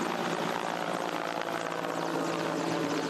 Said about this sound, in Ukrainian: остаточно впоратися з вогнем допомагає вертоліт